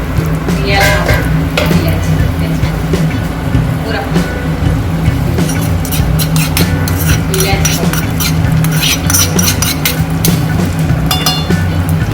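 Sheera fries in ghee in a pan while being stirred. A loud, steady sizzle runs under repeated scraping and clinking of a spoon against the pan, with someone talking over it.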